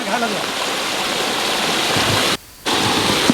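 Fast floodwater rushes loudly and steadily through a flooded colony drain after continuous rain in Koyalanchal, with a brief break in the sound near the end.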